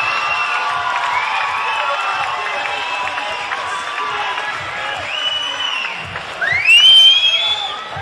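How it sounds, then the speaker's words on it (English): Crowd cheering and whooping at a Muay Thai Grand Prix card in Australia, a steady roar of many voices that swells louder with a rising whistle or shout near the end. "Crowd's having a good time, as they should."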